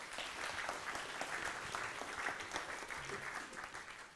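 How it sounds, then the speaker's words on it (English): Applause from a summit audience, a steady, even patter of many hands clapping throughout, fairly faint and distant with no speech over it. "let's give a round of applause to Mary."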